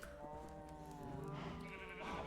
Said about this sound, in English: Come on, little sheep.